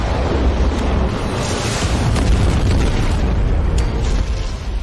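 Weapons fire and explosions roar during a twelve-nation joint military exercise, a dense continuous rumble of heavy booms and blasts filling the space, loud and close with no clear pauses.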